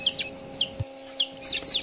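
Chickens on a poultry farm give a few short, high chirping clucks in quick succession over a steady mechanical hum, with one soft low thump partway through.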